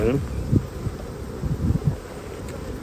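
Honeybees buzz inside an opened hive during a spring inspection, with an Alpine queen among them; a steady low hum runs throughout with some louder swells, and a person speaks over it.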